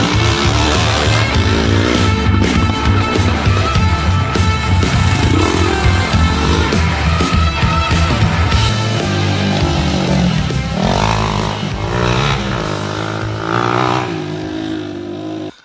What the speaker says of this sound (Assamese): বহুত বাইক, বহুত মানে নাই বোলে 100খনমান বাইক চলিছে আজি ইয়াতে